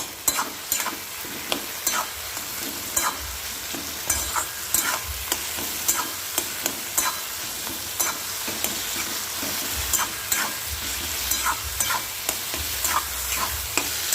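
A metal spatula mashes roasted eggplant bharta with tomato in a pan, producing repeated rhythmic scraping and tapping strokes over a faint low sizzle, close and fairly loud, with no speech.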